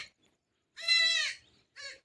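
A goat bleats nearby in hot weather, one long wavering bleat followed by a shorter second call, loud and clear against silence.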